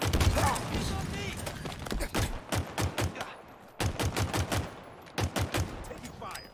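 Gunfire in a Halo-style arena shooter: loud, close bursts of rapid automatic shots in clustered volleys, with brief pauses and some background game voice.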